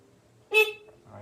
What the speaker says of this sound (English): All right, horn works.